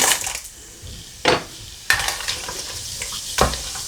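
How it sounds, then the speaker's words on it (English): Crackling, spluttering sizzle of whole spices in hot oil for a chicken curry, with several sharp pops and stirring clatters punctuating the steady frying hiss. "you can see that they've started to sizzle in the oil"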